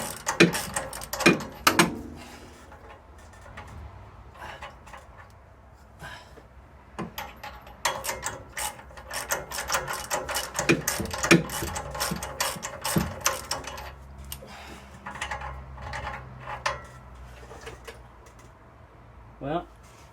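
Metal thread chaser turning in the oxygen sensor bore of an Acura NSX, giving irregular ratcheting clicks and scraping bursts, fairly close, with quieter stretches between and some speech nearby.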